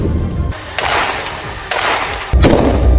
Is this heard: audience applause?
no